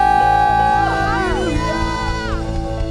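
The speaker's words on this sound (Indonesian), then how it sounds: "Boleh sorakan haleluya." A youth church congregation shouting and cheering hallelujah during an online service, loud overlapping voices and whoops in a dense crowd roar, with music or sustained tones underneath.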